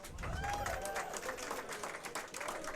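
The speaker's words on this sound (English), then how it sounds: "how about a round of applause by everyone here for Senior Cash" An audience gives a round of applause for senior Cash Richardson, a steady wash of clapping and crowd noise from start to finish, with faint voices mixed in.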